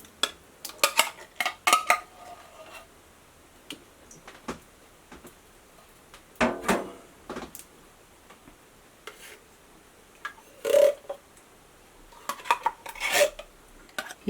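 Cans of condensed cream of mushroom soup are emptied into a slow cooker, giving scattered metallic clinks, scrapes and taps in short bursts separated by quiet gaps, close and moderately soft.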